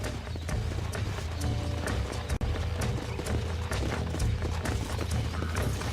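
Horse hooves pound in a steady, rapid galloping rhythm in the Western video game Red Dead Redemption, close and continuous over rumbling background sound.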